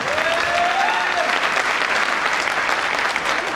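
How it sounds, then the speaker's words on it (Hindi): Dense, steady applause from a seminar audience fills the room from start to finish, a loud continuous wash of many hands clapping with no pauses. "मैं एक बार दिल से सर्व धर्म के सत्कार के लिए तहे दिल से एक बार जबरदस्त क्लैपिंग चाहता हूँ।"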